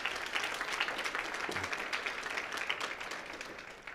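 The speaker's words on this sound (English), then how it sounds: "So let's give them a round of applause." Lecture audience applauding at an Adam Smith Lecture Series event, a steady wash of clapping from a seated crowd, moderately distant and even throughout the few seconds.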